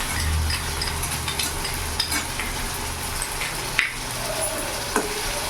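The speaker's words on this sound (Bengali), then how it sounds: "এবার ভালো করে আমি নেড়ে চেড়ে নেবো।" Onion, tomato and ginger-garlic-green chili paste frying in a pan over medium heat, a dense close sizzle with a few clinks and scrapes of stirring, no talk.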